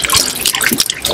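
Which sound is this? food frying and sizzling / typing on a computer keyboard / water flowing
water flowing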